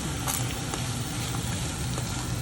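Tomatoes hit a hot frying pan while cooking fish biryani, giving a loud, dense, continuous sizzle with a few brief crackling bursts, close up and without talk.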